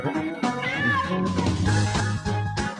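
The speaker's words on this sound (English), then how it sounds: "Is that a cat? I heard a cat." Cat meows woven into Animal Crossing: New Leaf game music, a few melodic mewing calls riding over a bright tune with bass notes, fairly loud and close.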